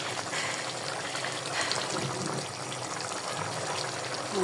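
Dissolved milk pouring into a simmering prawn curry (chingri bhuna), a steady, soft liquid trickle that runs continuously at a fairly even level close by.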